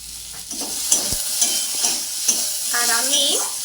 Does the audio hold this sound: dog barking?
no